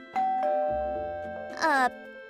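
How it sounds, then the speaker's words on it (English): A two-tone doorbell chime rings out clearly, a long sustained first note followed by a brighter second tone, close and fairly loud. "And when I rang the doorbell"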